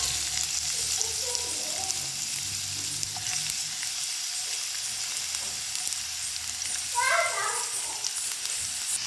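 Sliced onions and three green chilies sizzle in hot oil for an egg gravy curry, a steady, close, fairly loud frying hiss running unbroken through the whole stretch.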